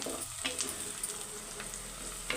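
Onions frying in hot oil give a steady, close sizzle with a few light crackles and stirring scrapes, with no talking.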